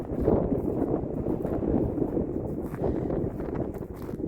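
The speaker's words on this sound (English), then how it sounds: "It's getting really windy." Rough, blustery wind buffets the microphone in a continuous low rumble with gusty swells, close and fairly loud, no voices, in a coastal town cemetery in Wallaroo.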